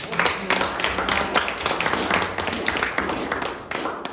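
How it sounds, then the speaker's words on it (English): Members at a Rotary Club meeting on the Costa del Sol applaud a newly named vice president. The clapping is close and loud with distinct individual claps, and it swells and eases over several seconds. "I think we should give her an applause."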